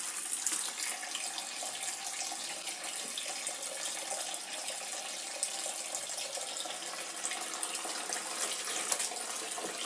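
Tap water runs steadily into a sink while silk fabric is rinsed, a constant close hiss and splash with small bright spatters, unbroken from start to finish.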